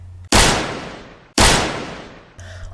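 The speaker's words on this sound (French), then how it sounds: "dans l'assistance, on entend alors 2 coups de feu" Two loud gunshots fired in a crowd during a public ceremony, about a second apart, each a sharp blast with a long decaying echo, close and alone.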